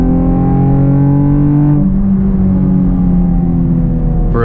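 Camaro RS V6 1LE pulling at full throttle in third gear from 60 mph: a loud, steady engine drone climbing in pitch, a brief break partway through, then a continued strong pull.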